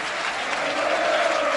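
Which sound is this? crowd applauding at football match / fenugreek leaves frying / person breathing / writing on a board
crowd applauding at football match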